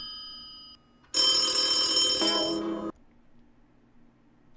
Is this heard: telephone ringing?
yes